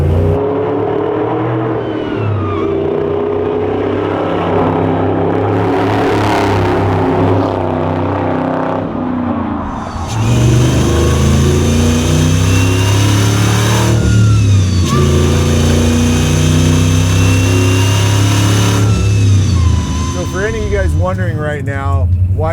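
A supercharged 600 hp 1973 Blazer race truck engine rumbles loudly up close, swelling through repeated revs and throttle blips with a deep mid-range roar, while people talk over it.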